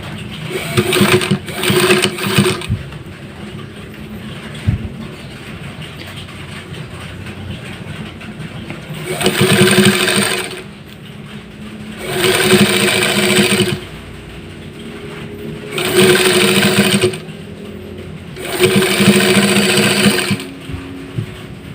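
Sewing machine stitching cotton shorts with side pockets, running in several separate bursts of steady rapid mechanical chatter, each a couple of seconds long, with quieter handling pauses between them and no talk.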